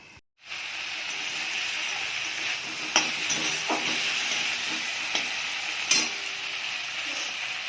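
Water spinach (kalmi shak) frying in a pan with ginger and salt, a steady close sizzle with intermittent stirring scrapes and clicks throughout, no talking.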